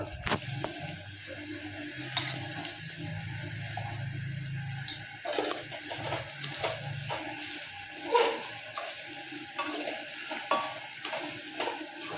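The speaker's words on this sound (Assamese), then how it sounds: "চাউলটো ৰঙা নোহোৱালৈকে ভাজি থাকিব" Rice frying with onions in a pan for pulao sizzles steadily while a spoon stirs and scrapes at intervals, a continuous close kitchen sound with no talking.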